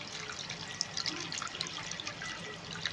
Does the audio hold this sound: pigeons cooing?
no